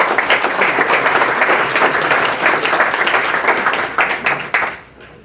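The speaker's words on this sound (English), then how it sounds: "Round of applause, please." An audience at an executive breakfast club meeting applauds a keynote speaker with dense, steady clapping that fades away over the last second.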